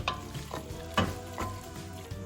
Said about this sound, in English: We're just going to saute that for a few minutes, just for a couple minutes or so, get it browned up a little bit.